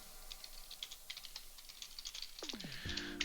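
Rapid, light keystrokes on a computer keyboard during a streamed BlazBlue Central Fiction beginner tournament bracket. The clicks are close and steady, with a brief electronic tone rising near the end and no one talking.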